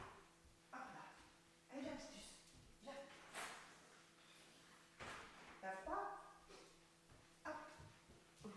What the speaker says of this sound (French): j'ai le chien qui veut rentrer